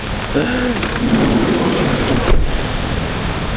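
Heavy rain pours down in a dense, constant roar, with a brief louder thud partway through.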